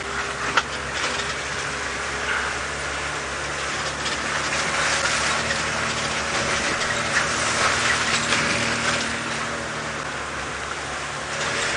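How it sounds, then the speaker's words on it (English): Wind blows steadily outdoors during a safari drive, a continuous broad rushing noise with a faint low rumble beneath it and no voices over it. "You can see in front of me the wind is blowing a little bit now"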